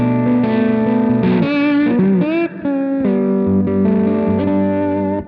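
A lap steel guitar pickup plays through a 4x10 speaker cabinet with a bright, effects-heavy tone. Loud sustained chords and sliding notes bend between pitches, with one brief gap midway and no talking.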